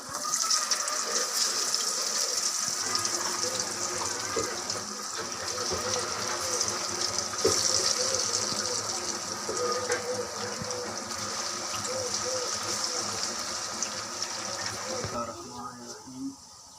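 Pakoras fry in hot oil with a continuous close sizzling hiss and bubbling that runs throughout, while a person talks over it.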